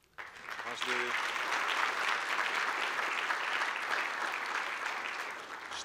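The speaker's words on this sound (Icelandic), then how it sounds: "Má ég biðja Ólaf Vallevík að standa upp eins og klappa fyrir honum." An audience at a conference gives a continuous round of applause for a person asked to stand, dense steady clapping starting abruptly after a brief voice and holding evenly to the end.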